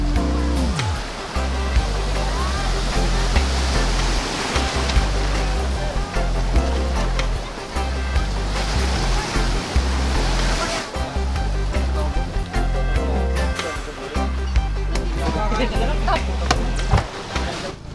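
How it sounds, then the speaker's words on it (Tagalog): Strong sea waves surging at the Nasugbu shore in Batangas, a loud, continuous roaring wash of surf that fills the whole stretch, with people talking over it. "Ang lakas ng alon ng dagat dito sa Nasugbu."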